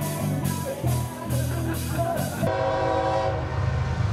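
A train rolls past with a rumbling, rhythmic clatter, and after a few seconds its horn sounds in a steady, sustained blast, loud and fairly close.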